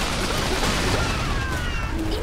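Dense battlefield gunfire in Iron Harvest, a loud continuous crackle of shots and crashes filling the whole moment.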